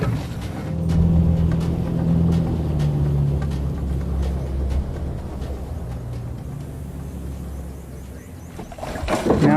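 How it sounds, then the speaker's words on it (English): Boat on the Amazon river moving into position, a low steady motor drone with a humming tone that fades gradually, some water and ambient noise around it, no clear voices. "the men move the boat into position."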